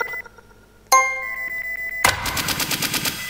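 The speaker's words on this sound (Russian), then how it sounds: "Кто из пулемета всегда стреляет?" Rapid, rhythmic bursts of automatic gunfire from a video game machine gun follow a short electronic chime, the shots loud and close in a tight repeating pattern.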